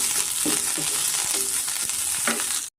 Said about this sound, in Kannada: ಕೊತ್ತಂಬರಿ ಮತ್ತು ಪುದೀನ ಇಷ್ಟನ್ನು ನಾವು ಸ್ವಲ್ಪ ಎಣ್ಣೆಯಲ್ಲಿ ಫ್ರೈ ಮಾಡ್ಕೊಬೇಕಾಗುತ್ತೆ.